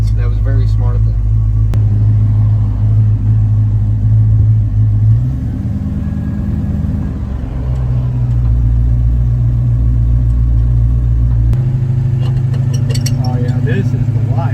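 A 1969 Dodge Charger on a long road trip cruises along, its engine rumbling in a steady low drone that shifts pitch a couple of times, with people talking over it.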